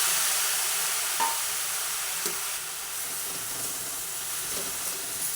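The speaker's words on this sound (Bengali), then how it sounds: "কড়াই গরম হয়ে গেছে সে সময় কড়াইয়ের মধ্যে এক এক করে আমগুলোকে আমি দিয়ে দিলাম" Mango pieces for ring pickle fry in a hot wok, giving a steady, close hiss and sizzle with a few soft taps as pieces are added one by one.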